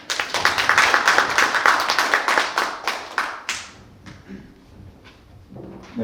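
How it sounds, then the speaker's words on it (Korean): An audience at a youth policy presentation event claps to welcome the final presenter, with a burst of brisk, sharp clapping that thins out after about three seconds into scattered claps and quiet room noise. "큰 응원의 박수로 맞이해 주시기 바랍니다."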